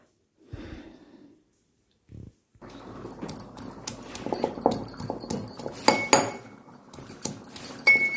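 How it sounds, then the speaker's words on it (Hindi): Spices for chana saag are crushed in a mortar and pestle, with close irregular knocks and grinding scrapes building into steady pounding after a few faint breaths and a short pause. "मैं तो खलबत्ते में इस सारी चीज़ों का मसाला तैयार कर रही हूँ।"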